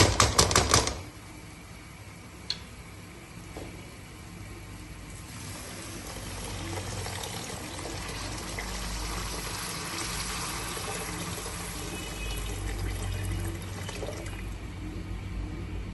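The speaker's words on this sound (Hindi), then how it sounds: "अब इसमें हम पानी शामिल करेंगे।" Water poured into a pot of frying masoor lentil dal, a steady liquid rush running for most of the stretch after a brief louder clatter at the start, close and fairly quiet.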